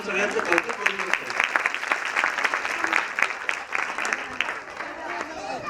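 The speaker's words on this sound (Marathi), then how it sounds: "कोणतरी टाळ्या वाजून सगळ्यांचं कौतुक करू शकतो" An audience at a primary school annual day function breaks into sustained applause, many hands clapping steadily at moderate volume from a crowd across the hall.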